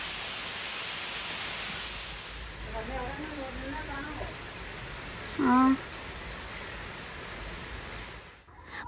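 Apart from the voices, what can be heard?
rain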